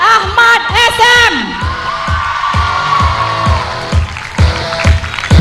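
A crowd at a SEA Games netball match between Brunei and Singapore cheers and whoops loudly, with a commentator talking over the roar and shrill voices rising above it.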